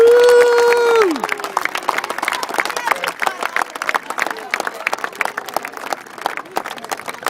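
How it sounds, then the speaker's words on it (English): A crowd at a Little League opening day applauds the mothers, a loud whoop opening before sustained scattered clapping and cheering from many people, with crowd chatter beneath. "everybody in this place should give the mothers a nice round of applause"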